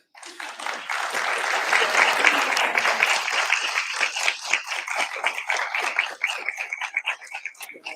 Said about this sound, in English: we would love to give you another round of applause